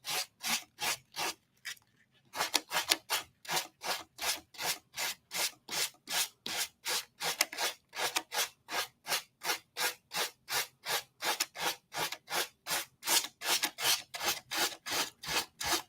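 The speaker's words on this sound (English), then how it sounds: "sanding block is a little worn, so let me see if I can turn that there" A worn sanding block rubs back and forth along the damp edge of decoupage paper in a close, brisk, regular rhythm. The strokes repeat steadily for the whole stretch, broken only by one short pause near the start.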